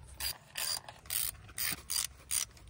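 Hand ratchet tightening bolts on a Suzuki 150 outboard motor, six quick evenly spaced clicking strokes, close and crisp against a quiet background.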